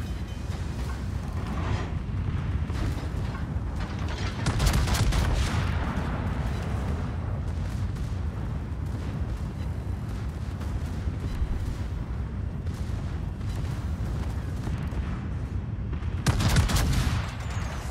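Heavy naval gunfire from a Tier 10 Pan-American battleship, the Libertad, in World of Warships, booming in loud repeated broadside salvos with rumbling echoes across the sea, the biggest blasts near the start and the end.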